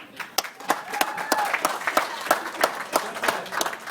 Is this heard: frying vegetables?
no